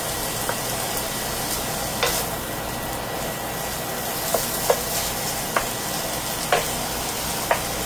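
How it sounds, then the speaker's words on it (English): Cut-up breakfast sausage frying in a pan, a steady crackling sizzle with occasional louder pops and light stirring scrapes, close by, with a faint fan whir beneath. "But anyway, we're cooking our sausage."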